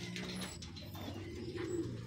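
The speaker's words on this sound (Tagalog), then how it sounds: "Ito mga ibon natin." Racing pigeons at a derby in Pagbilao, Quezon coo softly with a low, rolling murmur that sits faintly under a steady ambient hiss, without any talking.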